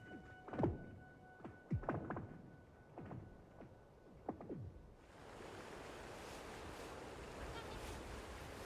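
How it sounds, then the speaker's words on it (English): Lake ice cracking in the cold mountains, several sharp percussive booms and pings with descending ricochet tails at irregular intervals, faint and distant, before a steady wind-like hiss takes over. "When conditions are just right, the percussion of cracking ice ricochets off the mountains"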